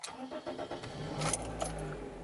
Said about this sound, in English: and I turn the car on